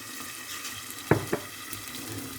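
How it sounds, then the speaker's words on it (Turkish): Peppers frying in a pan on a home stovetop, a steady close hiss of oil broken by two short, sharp pops partway through, with no talk. "Biberlerimiz kızarıyor arkadaşlar."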